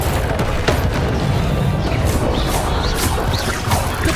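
Confringo, the explosive fire spell in Hogwarts Legacy, bursts loudly amid dense, continuous game combat noise, with rumbling blasts and crackling impacts packed together and no pauses.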